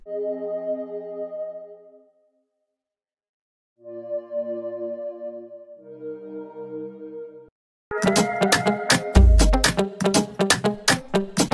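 Lush synth pad built in Serum, washed in reverb and chorus, sustaining soft chords in three phrases with a brief gap, then joined by a fuller beat and bright layers in the last few seconds; no voices.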